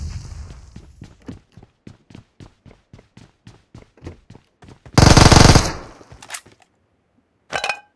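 Rapid bursts of automatic gunfire from a PUBG Mobile match on the Erangel map, a steady string of loud, evenly spaced shots followed by a heavy, sustained blast and a brief final burst.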